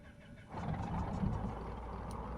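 A Cessna 404 Titan piston engine starts up in Microsoft Flight Simulator 2024, catching after a quiet moment and settling into a steady, close, rumbling idle with no talk over it.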